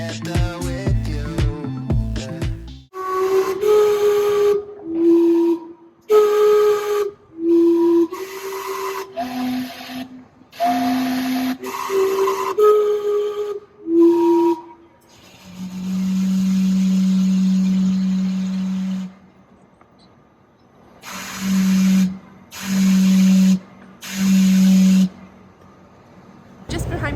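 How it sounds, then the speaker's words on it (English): Gastown steam clock in Vancouver, Canada, sounding a steady steam whistle for several seconds, then short repeated whistle blasts, loud and close, with tuned chime-like notes earlier and street background around it. "right here we have the famous Gastown steam clock"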